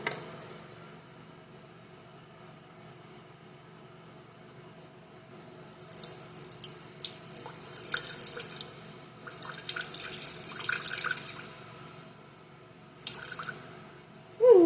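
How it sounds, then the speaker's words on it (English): Water trickles and splashes into a jar sitting on a kitchen scale, with quiet bursts of pouring after a near-silent start and a brief knock at the end. "I'm going to add 50 grams of water"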